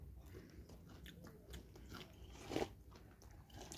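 Crunchy onion fritters (piyaju) being eaten up close, quiet biting and chewing with a sharper crunch near the middle, faint and intimate over low background noise.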